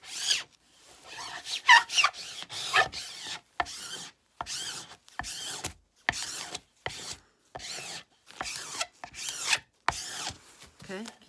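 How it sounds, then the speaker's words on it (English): A small tool rubs down a thin film sheet in a quick series of short, scratchy strokes, about a dozen separate swipes, close and fairly quiet, with brief silences between them. "I have a little tool, but you can use a credit card. And you want to rub it down."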